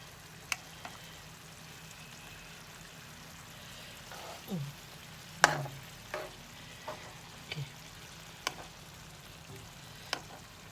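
Soft steady simmering of fish stewing in a covered pan, with occasional clinks and light knocks of utensils, no talking.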